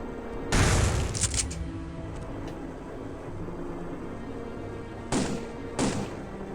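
Mag 60 gunfire in the Nintendo 64 shooter Turok 2: Seeds of Evil, a loud burst of rapid shots up front, then two shorter bursts later over a low in-game ambient hum.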